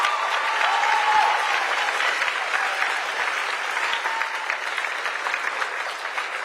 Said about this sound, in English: Oh, clap for them.